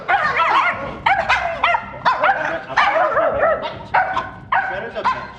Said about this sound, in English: there's another dog here.